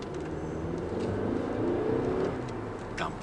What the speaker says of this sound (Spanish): y cuando aceleramos con el motor